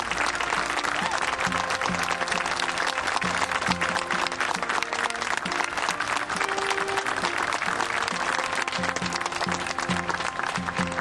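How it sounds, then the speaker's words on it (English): Audience at a 9-11 memorial groundbreaking claps steadily for about eleven seconds in a dense, even wash of applause, with faint voices and tones running underneath. "I ask everyone here today to give a round of applause and appreciation to our heroes of our community."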